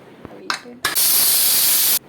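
A pressure cooker whistle blows while beans cook with a little water, turmeric and salt, a loud sustained steam hiss lasting about a second after a couple of brief clicks and rattles.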